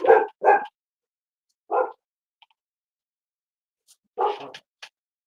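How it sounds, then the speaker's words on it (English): Dogs bark in short bursts: two quick barks, a single bark, then another pair after a pause, fairly close with silence between. "what are y'all barking at?"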